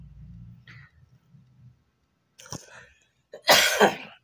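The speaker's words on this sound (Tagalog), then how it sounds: "Ayan, may ubo pa rin." A low murmur fades out, then a few short coughs ring out, the last one louder and harsher, with quiet pauses between them.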